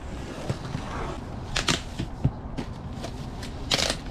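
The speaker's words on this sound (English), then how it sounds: "let's go ahead and unbox this and check it out." MaXpeedingrods COT7 coilovers are unboxed on a table, with close rustling, crinkling packaging and scattered sharp clicks and taps of parts being handled.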